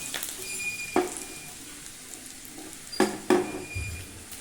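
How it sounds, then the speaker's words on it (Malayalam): Dried red chillies sizzle in hot oil at low volume, marked by a few sharp clinks of a spoon or utensil against the pan at irregular intervals. "വറുത്തിടാൻ പോകുന്നു. വറ്റൽമുളക്,"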